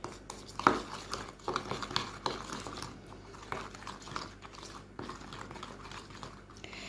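Meat being mixed with pepper and spices in a bowl, soft wet squelching and scraping of stirring, continuous and close, with occasional light knocks.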